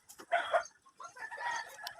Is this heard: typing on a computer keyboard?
no